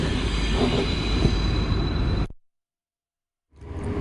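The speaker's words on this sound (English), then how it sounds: "So here I am on the train to Hamburg." Inside a train riding to Hamburg, a loud, steady rumble and rattle of the carriage with faint wheel noise fills the space, then breaks off into a second of silence before returning.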